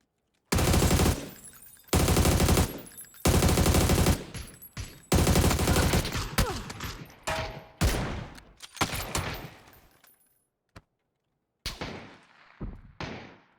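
Bursts of automatic gunfire from PUBG rattle in several long, loud volleys, then thin out into shorter scattered shots with brief pauses between them.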